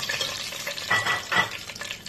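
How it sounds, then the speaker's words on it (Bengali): Spice mix for pulao fries in a pan with a steady sizzle, and a few scraping stirs rise and fall over about two seconds. "একটুখানি ভেজে নিচ্ছি।"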